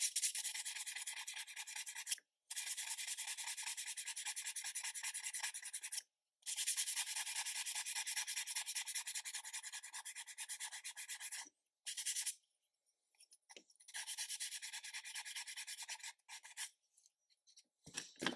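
Sandpaper rasps back and forth against a wooden model in long, steady bursts of close, dry scratching, separated by short pauses and a few briefer strokes near the end.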